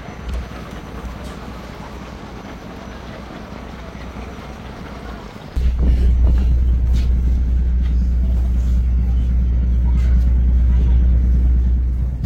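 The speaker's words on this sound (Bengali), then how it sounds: "চরজালালপুর লঞ্চ ঘাট থেকে ছেড়ে যাচ্ছে আমাদের লঞ্চ।" A passenger launch pulls away from the Charjalalpur river ghat, its engine a low steady rumble that swells abruptly louder midway and keeps droning, close and continuous, without talk.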